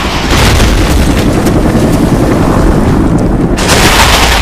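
A flash bomb goes off in a shooter video game, a loud sustained roaring blast with dense rumbling low end that fills the whole stretch without a break, and no voices.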